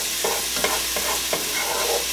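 Garlic sizzles and crackles steadily in a hot pan, close up, with a few soft stirring scrapes and no voices.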